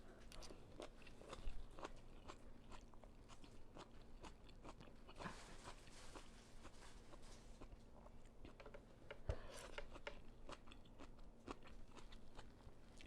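Crunchy fresh vegetables from a large bowl of vegetarian pho chewed close up, a steady run of soft crisp bites and mastication crackles with no talk.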